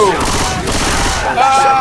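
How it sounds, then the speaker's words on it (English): Rapid gunfire in the video game Left 4 Dead 2, a dense, loud burst of overlapping shots that runs throughout with brief swells and fades, while voices faintly call out over it. "You keep shooting at me."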